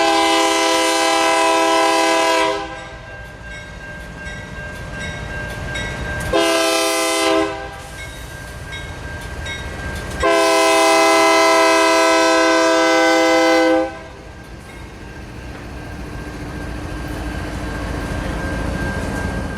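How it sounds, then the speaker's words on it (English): A train horn blasts in three long bursts over the steady rumble of a passing manifest freight train near New Orleans, loud and close, with the rolling rail noise continuing afterward. "This is a high-priority manifest freight train that runs from Lafayette to CSX's Gentillie yard in New Orleans."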